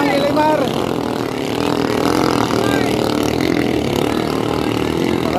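A racing motorcycle engine drones loudly and continuously at a motorcycle race in the Philippines, its pitch wavering slightly as it revs, with a commentator talking over it.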